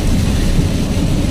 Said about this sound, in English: when you see a flash and then you hear a boom, that's pretty close